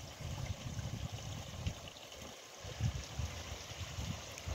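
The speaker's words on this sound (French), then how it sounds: "Tu vois l'eau couler sur le pont, là, les petits ponts et tout." Water streaming over little footbridges into a small cascade at a lakeside park, a steady low rushing and trickling that stays moderately quiet and continuous, with no voices.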